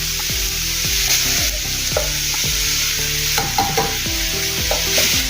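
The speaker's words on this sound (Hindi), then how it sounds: "अभी तेल अच्छे से गर्म हो गया है। ये देखिए, तभी जो हमने गोभी, बंद गोभी मिक्सी में पीसा था वो इसमें डाल देंगे।" Ground cabbage drops into hot oil in a pan and sizzles steadily, with repeated spoon stirring scrapes and clinks over a constant frying hiss.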